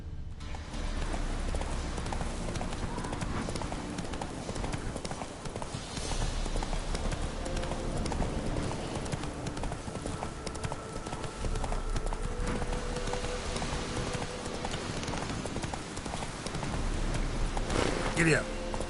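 Horse galloping in The Witcher 3: Wild Hunt, rapid rhythmic clip-clop of hooves running steadily for a long stretch, close and prominent, with game speech and other effects mixed in and a brief whinny-like burst near the end.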